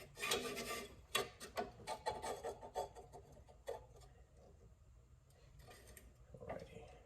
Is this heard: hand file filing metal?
yes